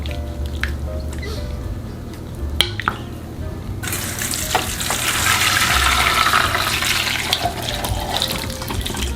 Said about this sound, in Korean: 이렇게 뜨거운 물로 한번 헹구어서 체에 받쳐서 물기를 제거해서